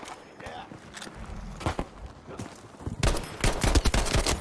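Gunfire in Battlefield 5 crackles in several bursts, sparse early on and then a dense run of rapid shots near the end, with speech also present.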